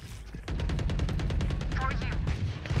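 Rapid automatic gunfire in a video game: a sustained burst of evenly spaced, loud, close shots that fires nearly the whole length of the clip.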